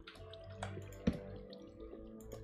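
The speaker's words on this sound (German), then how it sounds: "Ich höre hier Wasser." Water in Minecraft makes faint, sparse drips and a soft liquid trickle, heard quietly against a low background.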